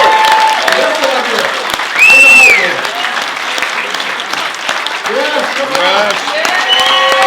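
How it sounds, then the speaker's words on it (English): Crowd applause at Michelle Coehlo's State Senate campaign launch, steady clapping filling the room with a few whistles and cheers, while someone talks over it near the microphone. "Round of applause for Michelle."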